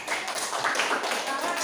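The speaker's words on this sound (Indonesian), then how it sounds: "Tepuk tangan dulu." An audience in a classroom claps together in a dense, continuous patter of hand claps that stays at an even level for the short stretch, with faint voices mixed in.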